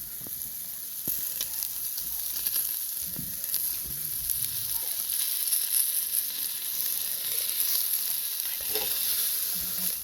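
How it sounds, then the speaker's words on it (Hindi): Meat barbecue sizzling on a grill outdoors at night, a steady dense hiss and crackle of fat that continues evenly and close, with small pops and no talking. "यहाँ से बारबेक्यूज भी ग्रिल हो रहे हैं माशाल्लाह।"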